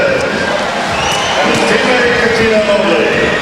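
A basketball arena crowd at the 2000 NBA Slam Dunk Contest roars and cheers steadily after a dunk, a broad sustained wash of noise with a commentator talking over it.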